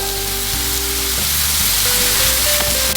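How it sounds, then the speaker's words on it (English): Buttered burger buns crackle loudly on a hot griddle, a dense, continuous sizzle heard close up and alone, without voices. "Next, I'll drop my buttered buns."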